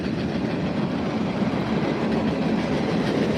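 A train rolls past at night in Las Vegas, a loud, continuous broadband rumble of wheels and cars with faint clickety-clack, steady and close throughout.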